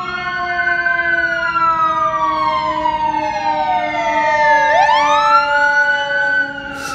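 An ambulance siren wails steadily as the vehicle passes slowly along a street, its rising and falling tones loud and continuous, with a pitch sweep near the end as it goes by.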